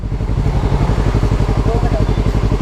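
An unmuffled motorcycle engine runs nearby with a loud, rapid, throbbing exhaust pulse that stays steady and raw throughout.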